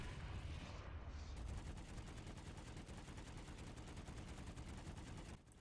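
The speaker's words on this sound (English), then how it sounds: "Looks like the teams are still shooting into the air to celebrate this victory" Rapid automatic gunfire in a video game as teams shoot into the air to celebrate a victory, a dense, even rattle of shots that runs almost nonstop and cuts off near the end.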